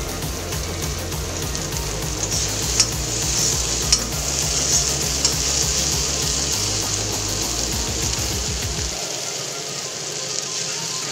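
Ivy gourd, okra and potato frying in a pan with salt and turmeric, giving a steady close sizzle with rhythmic scraping stir strokes that stop near the end while the hiss carries on.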